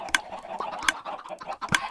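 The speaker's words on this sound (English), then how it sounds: "There's a bunch of chickens there." Chickens in the Minecraft video game cluck in three short, sharp bursts spaced evenly apart, with softer clucking filling the gaps.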